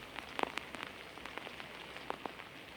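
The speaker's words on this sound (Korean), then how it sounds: "지금 보시는 것처럼 점점 빗줄기가 굵어지고 있습니다" Rain falls at Incheon's coastal pier, soft scattered drops tapping a nearby surface against a steady faint wash, with no voices.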